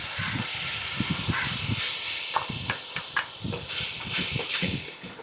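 Tomato puree poured into a hot pan for a fried fish curry, giving a steady close hiss of sizzling with irregular bubbling pops and spits throughout.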